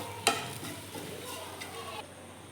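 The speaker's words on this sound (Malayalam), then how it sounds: "അടി കരിഞ്ഞു പോകും, അതുകൊണ്ട് എപ്പോഴും ഇങ്ങനെ വഴറ്റി കൊടുത്തുകൊണ്ടേ ഇരിക്കണം കേട്ടോ." Sugar macaroni base being sautéed and stirred in a pan: a sharp scrape at the start, then a low, continuous sizzle with soft intermittent scraping strokes, fairly quiet and close.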